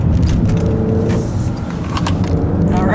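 A 2018 Honda Accord 2.0T Touring drives in sport mode on a back road through corners, giving a steady engine and road drone from inside the cabin with light rattles.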